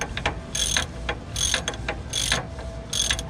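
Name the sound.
ratchet tightening Camaro brake caliper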